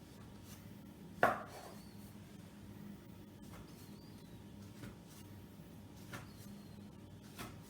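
A knife cuts a square slab of ciabatta dough into six pieces on a kitchen board: one sharp, close chop stands out, followed by a few faint taps over a quiet room.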